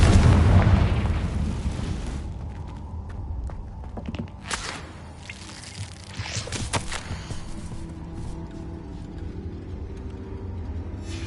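A booming Confringo fire-spell blast in a Harry Potter wizard video game, a loud low explosion at the start that decays into crackling, rumbling aftermath with scattered impacts and shuffling.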